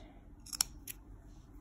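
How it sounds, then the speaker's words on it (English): Sharp clippers snip through fleece fabric while a pull-through scarf is trimmed, two quick crisp cuts close up in a quiet room. "I'm going to use these clippers."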